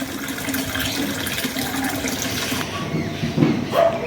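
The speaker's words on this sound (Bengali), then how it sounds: "এবার মেন কাজ হলো জল ফিল করা, ট্যাঙ্কে জল ফিল করতে হবে।" Water pouring steadily into a rooftop koi fish pond tank, a continuous broad rushing splash that holds for a few seconds, then thins out near the end with a couple of brief gurgles.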